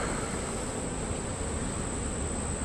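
Honeybees drone in a dense, steady buzz from an open hive full of brood, a continuous close hum with no pauses.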